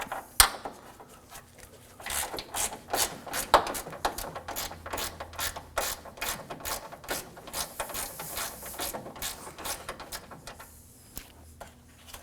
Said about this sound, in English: We're gonna have the same 10mm bolt on the opposite side of that, and using the same tool, we're gonna remove that.